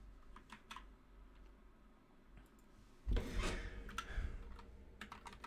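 Light, scattered keystrokes tap on a new computer keyboard, quiet and close, then a louder rubbing, shuffling burst takes over before sparse clicks resume at the end.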